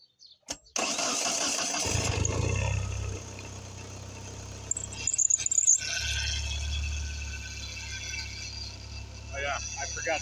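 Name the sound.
car engine cold start with loud power steering pump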